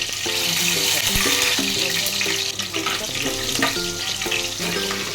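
Dried chilli, bay leaf and crushed black pepper fry in a little oil, a continuous close sizzle with clinks of a utensil stirring in the pan.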